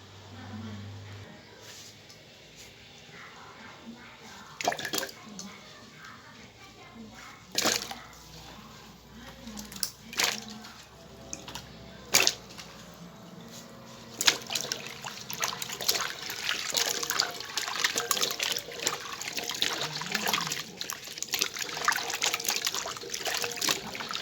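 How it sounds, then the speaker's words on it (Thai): Papaya pieces, just soaked in limewater, are rinsed in plain water for a candied papaya recipe: soft trickling and sloshing, with sharper splashes and clinks as the fruit is handled, rising into steadier water movement toward the end. "จะ เอา บักฮุงเนี่ย ไปล้าง ในน้ำเปล่านะจ้ะ"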